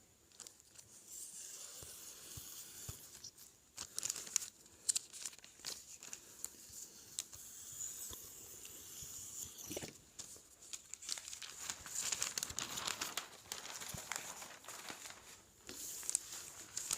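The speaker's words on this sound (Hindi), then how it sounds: "इसको दरमियान में से हम काट लेंगे" Paper crinkles and rustles for a notebook cover as it is folded, creased and cut, with intermittent crisp handling sounds, soft tearing-like swishes and occasional sharp taps, heard close and fairly quiet.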